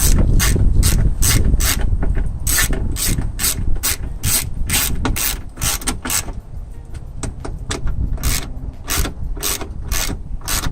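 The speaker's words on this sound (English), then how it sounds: "I'm not tightening it all the way yet. I'm just kind of tightening it slowly." A ratchet clicks steadily while tightening bolts on a Honda power window motor during a window rattle repair, close and loud with irregular bursts of ratcheting over a continuous mechanical rasp.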